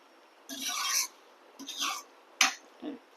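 Chicken pieces are tossed and rubbed with masala paste by hand for Andhra chicken iguru, giving four short wet rasping bursts separated by brief pauses, close and fairly quiet.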